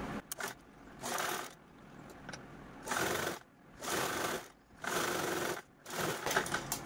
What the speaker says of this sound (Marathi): इकडनं आता आपण स्टिच करूया